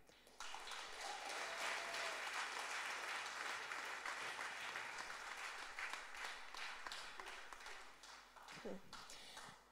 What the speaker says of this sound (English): give a massive round of applause and welcome Anna